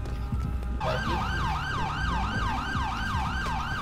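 An ambulance siren in GTA 5 wails, cycling rapidly up and down in a fast yelp pattern, loud and continuous after a brief moment of background noise.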